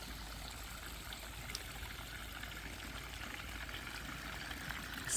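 A garden brook runs with a steady, continuous trickle and gurgle of flowing water, close and even throughout without any voices.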